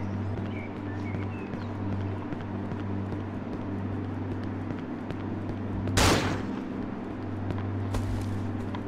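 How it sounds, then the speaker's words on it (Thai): A single sharp gunshot cracks out in the Cry of Fear horror video game, standing loud above a steady low droning ambience, with a fainter burst following near the end. "ผมได้ยินเสียงปืนครับ"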